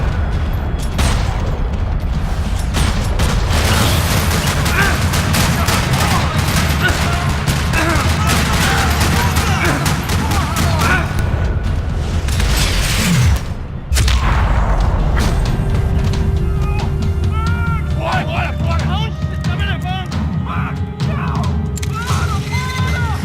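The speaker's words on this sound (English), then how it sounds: "Another parking lot rattling with gunfire." Dense bursts of automatic gunfire and thudding impacts echo through a parking lot in the video game Max Payne 3, a loud continuous rattle with scattered booms throughout.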